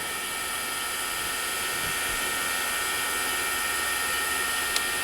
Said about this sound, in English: You can see our table moving now.